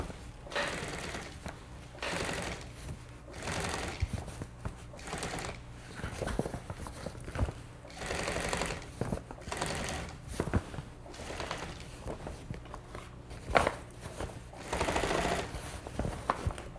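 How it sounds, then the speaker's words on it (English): Sewing machine top-stitching a car convertible top, running in irregular bursts of mechanical chatter with brief pauses between runs, close and fairly quiet with no voices. "I'm going to be sewing the top sew in this direction because you're going to be sewing along here."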